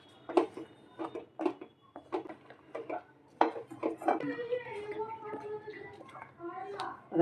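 Spoon scraping and knocking against a pan while stirring thickened tapkir halwa batter, a series of quiet clinks and scrapes in an uneven rhythm, close by and faint.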